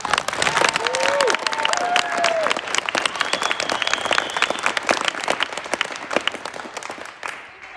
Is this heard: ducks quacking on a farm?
no